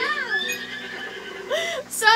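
In the Princess Peach: Showtime! video game, a horse gives a loud, bright whinny with rising and falling tones, then a second whinny near the end, with game music and sound effects around it.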